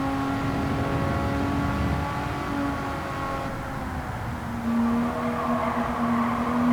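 Race car in Gran Turismo 7 under steady moderate acceleration, a continuous engine drone with a tone that drops midway and then climbs again, no voices.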